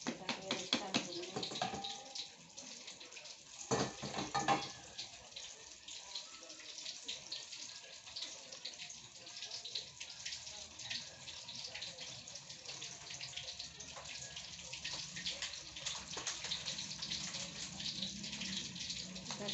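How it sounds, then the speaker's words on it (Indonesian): Tap water runs steadily while a brown lid is rinsed at a street snack stall selling cheese banana fritters, a continuous moderate splash with some clatter and background voices. "cuci tutup yang tadi jatuh, tutupnya coklat"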